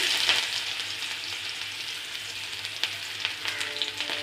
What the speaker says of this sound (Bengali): এখন এই তেলেই দিয়ে দেব কিছুটা পেঁয়াজ কুচি